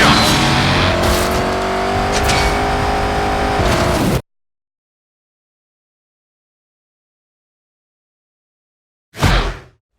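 A car in Stuntman Ignition on Xbox One roars with a strained, revving engine through a drift for about four seconds, then cuts to silence before a short loud burst returns near the end.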